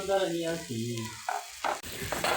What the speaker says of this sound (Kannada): ಈಗ ಖಾರ ಅಂತೂ ಚಂದ ಫ್ರೈ ಆಗಿಬಿಟ್ಟದ್ರಿ ಎಣ್ಣೆಗ